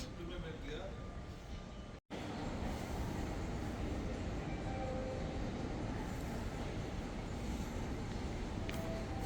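Steady low rumble of a Doha metro train in Qatar running along the track, a continuous close hum with a brief dropout, and voices talking faintly underneath.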